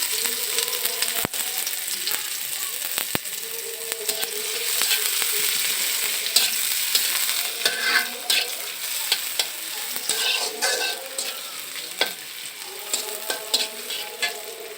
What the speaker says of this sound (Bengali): মাছ ভেজে নেওয়ার পরে যে তেলটা ছিল আমাদের তার মধ্যে আমরা দিয়ে দেব একটা পেঁয়াজ কুচি